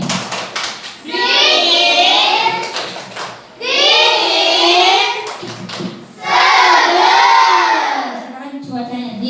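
In a classroom, a group of children chant loudly together in three long sung phrases, with quick hand claps and taps in the short gaps between them.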